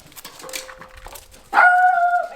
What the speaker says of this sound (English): I said don't bark.